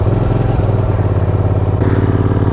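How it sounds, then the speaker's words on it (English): Benda Napoleonbob 500 motorcycle engine running at a steady, loud idle, a dense mechanical rumble with a slight shift in tone near the end and no talking. "This is the first thing that surprised me when I started this bike up"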